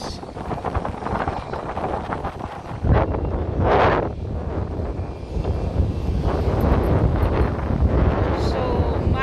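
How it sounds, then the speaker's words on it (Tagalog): Strong wind blows on Maspalomas beach in Gran Canaria, a loud continuous buffeting of the microphone with a faint rush of surf beneath and a voice talking over it. "So, mahangin."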